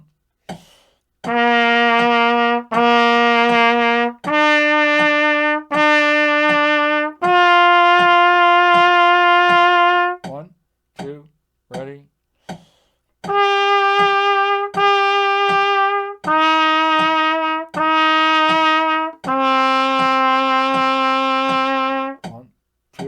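A trumpet plays the Simple Melody exercise from a beginner trumpet book in sustained half notes starting on low C, loud, clear tones in two phrases separated by a short gap with brief breaths.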